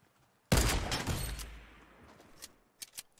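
A single loud sniper rifle shot in Fortnite's sniper shootout mode cracks out sharply and rings off in a long fading tail, followed by a couple of smaller distant reports near the end.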